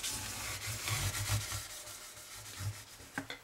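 Oil rubbed by hand into the fretboard of a 2023 Gibson Les Paul Tribute guitar, close, soft scrubbing strokes in uneven bursts, with a small tap near the end.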